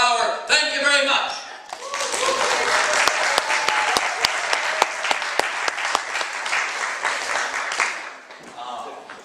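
Theater audience at a magic show applauds, with lively sustained clapping and sharp individual claps; a voice talks at the start and again as the applause fades.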